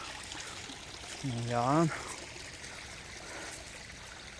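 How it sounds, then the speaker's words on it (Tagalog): Strong current of a stream flowing steadily in a continuous low rushing wash, fairly faint, with a short spoken word over it. "Ang lakas ng tubig, oh."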